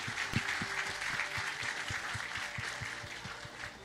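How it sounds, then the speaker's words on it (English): Warm applause from an audience at a Hall of Fame event honoring General V.K. Singh, steady clapping with low rhythmic thumps of background music underneath. "Can we have a big round of applause for General V.K."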